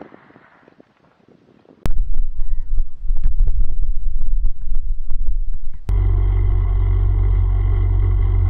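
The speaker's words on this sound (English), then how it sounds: "Just completely bellied the bike out on this bloody log" An ATV bellies out on a log in thick Australian bush, with a sudden heavy jolt and scraping thumps over a loud engine rumble, then a steady droning engine after a second impact.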